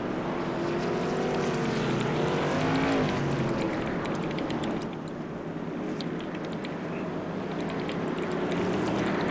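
NASCAR Whelen Tour Modified race cars at Concord Speedway in the iRacing game, a loud continuous engine roar with rising and falling pitch as cars pass, steady throughout with no talk.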